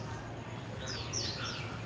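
Birds chirp overhead above a city street, a brief cluster of high twittering calls at moderate distance over low traffic rumble and faint background voices.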